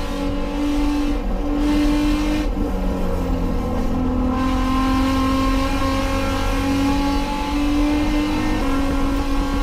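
A BMW E30 race car held at full throttle on the Atlantic Motorsports Park circuit gives a loud, sustained engine howl with rising pitch and slight gear-change dips, heard from close inside the car.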